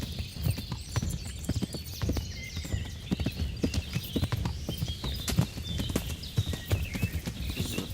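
Horse hooves clip-clop steadily in the video game Kingdom Come: Deliverance, a brisk repeating rhythm of hoof strikes on the ground, fairly close and moderately loud, with no talking over it.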